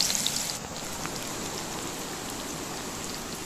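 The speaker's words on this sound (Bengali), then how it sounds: "ওই তেলেতেই দিয়ে দিলাম কুচানো পেঁয়াজ," Chopped onion frying in oil, a soft, even crackling hiss that holds steady after a slightly louder start.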